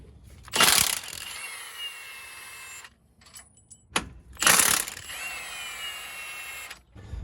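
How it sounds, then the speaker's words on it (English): Ratchet or power tool removing the steering box bolts on a Jeep JL/JT during a steering upgrade, with two loud bursts of mechanical whirring and clicking between quieter stretches of tool noise. "you can go to removing these 4 bolts"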